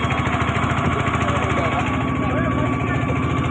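A small auto rickshaw engine runs steadily on a road ride near Sudarshan Setu bridge, Dwarka, with a constant close-up putter and faint talk under it.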